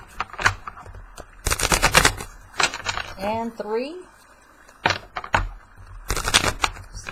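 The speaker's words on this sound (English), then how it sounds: "I'm going to go ahead and shuffle the deck real quick" A deck of tarot cards is shuffled in quick, crisp riffling bursts of papery clatter, with a short flurry in the middle, mixed in with a person talking.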